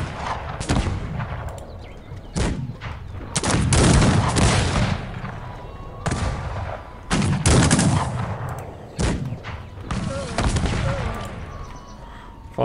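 Cannon and musket volleys in the strategy game Cossacks 3 crash in repeated loud bursts, crackling rolls of gunfire with booming blasts spaced a few seconds apart.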